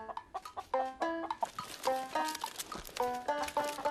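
Chickens cluck in a backyard coop behind a house, giving a run of short, repeated calls that overlap at close range with no talking.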